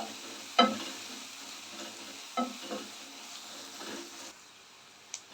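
Onions sautéing in a pan until they change colour, a soft steady sizzle broken by a few sharp scrapes of a spoon stirring against the pan, close and fairly quiet.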